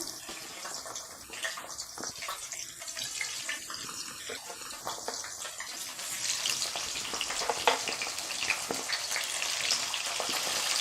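Chopped ivy gourd fries in oil with a steady, close crackling sizzle that grows louder and denser partway through.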